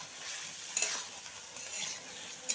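Spices and salt are stirred in a frying pan with a soft, steady sizzle, a spatula scraping in a few brief strokes, fairly quiet and close.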